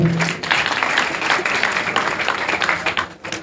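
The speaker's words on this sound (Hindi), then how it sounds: "चाहूंगी एक बार जोरदार तालियों से।" Sustained applause from a crowd at an event in an industrial area in Shahdara, Delhi, steady and fairly loud, with a few faint voices mixed in, tapering off toward the end.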